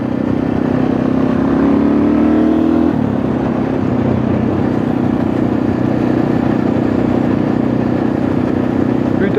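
A Husqvarna 610 SM motorcycle riding along a road, its engine droning steadily and loudly throughout, with a brief rise in pitch early on before settling into an even cruising note.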